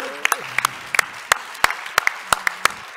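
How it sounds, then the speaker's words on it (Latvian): Audience applause at a capital markets forum conference panel in Latvia, a short burst of brisk hand clapping from a moderately sized crowd, fairly close and steady. "veltīsim aplausus"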